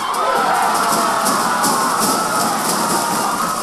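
A sizable crowd at a women's rugby match between Tonga and another side, a steady, dense roar of cheering voices filling the space with no clear breaks.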